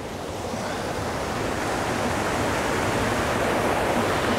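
A creek flows over slippery, mossy rocks on Vancouver Island, a dense, steady rushing wash of water close by and constant throughout, with no voices.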